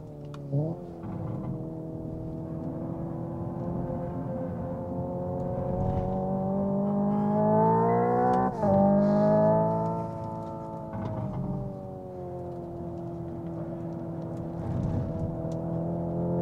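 Hyundai Ioniq 5 N 2025 electric car lapping a race circuit, its synthetic engine tone rising and falling in layered harmonics with a sharp shift near the middle, loud and close, no talking.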